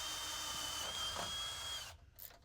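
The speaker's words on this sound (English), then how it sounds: "Then drill out the holes." A power drill bores holes in a pickup's frame rail for a supercharger fuel system mount: a steady high whine runs for about two seconds, then cuts off, heard faintly at a distance.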